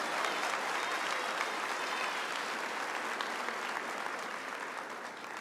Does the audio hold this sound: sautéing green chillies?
no